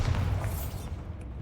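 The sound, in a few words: Bombarda blasting spell explosion in video game Hogwarts Legacy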